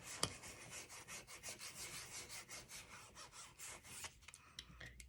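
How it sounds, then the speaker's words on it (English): A backer piece is rubbed back and forth over a stencil on a tiered tray DIY kit, producing quiet, steady, rhythmic scraping strokes, close up and alone. "And then I like to use the backer piece to rub it down."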